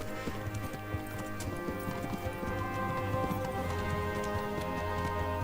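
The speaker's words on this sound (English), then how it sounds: "O cavalo marchou para o outro lado." Horse hooves walking in the video game Kingdom Come Deliverance, a steady, even clip-clop of hoofbeats at moderate loudness over a soft ambient game background.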